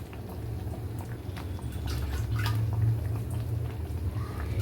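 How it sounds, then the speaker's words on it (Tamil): Lentil-free sambar simmers in a pot, a soft close bubbling and faint popping over a low steady hum, with no voices. "இப்போது சாம்பார் நல்லா கொதிச்சு வருது."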